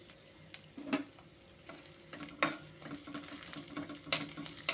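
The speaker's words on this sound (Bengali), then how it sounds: "আদা কুচি রসুন কুচি লঙ্কাটা একটু ভাজা ভাজা করে নেব" Chopped ginger, garlic and chilli sizzle in hot oil in a pan for a spicy Bengali potato recipe, with a continuous near hiss and repeated clattering spatula stirs spread across the clip.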